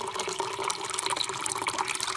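Room-temperature spring water pours into a bowl, a steady close splashing trickle running continuously with small bubbling flickers throughout.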